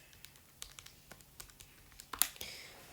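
Quick, light keystrokes on a computer keyboard as a calculation is entered, a brisk irregular patter of close, soft clicks over about three seconds, a little louder near the end.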